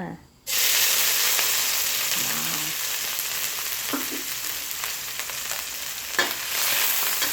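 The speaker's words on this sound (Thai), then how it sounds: "เราก็จะมาคั่วพริกก่อนนะคะ ให้เขามีความหอมก่อนนะคะ" Pounded chili and garlic stir-fry in a hot pan for Thai basil stir-fry, a loud, steady sizzle with faint scrapes of stirring over it, and brief soft speech.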